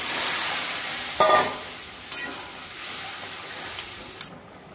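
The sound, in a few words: bottle gourd added to frying poppy seed masala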